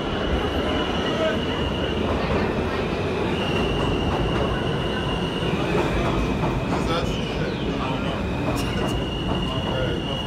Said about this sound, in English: How was that subway ride?